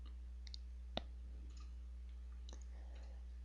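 A single sharp mouse click at about one second, a short faint tick in a quiet room with a steady low hum and a few small clicks around it, no voices.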